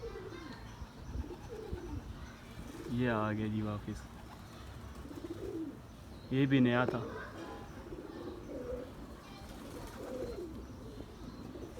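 Pigeons landing back at a rooftop loft give two clear bursts of cooing a few seconds apart, with soft bird chatter in between and someone talking nearby.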